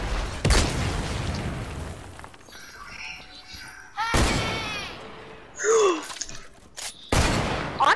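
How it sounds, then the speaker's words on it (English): Rocket launcher blasts in Fortnite hit as loud broadband booms, one early and another around the middle, with a final burst near the end, between a gasp and quieter game noises. "Why are you using a rocket launcher?"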